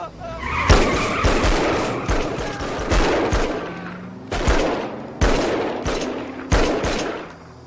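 Bursts of gunfire in an action thriller, with several sharp, loud shots in rapid volleys spread over several seconds, some close together like automatic fire, over a dense, noisy backdrop of action.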